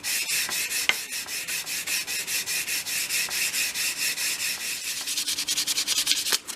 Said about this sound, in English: I'm just going to go for a 500 here, and then just very gently sand